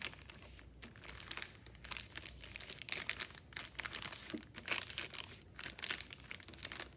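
Paint and paper sealed in a plastic bag are squished and pressed by hand, producing steady close crinkling and soft crunching rustles in irregular bursts.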